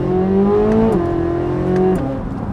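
A 2023 Corvette C8 Z06 engine revs loud and close, a smooth high-pitched wail that shifts pitch twice in a short burst.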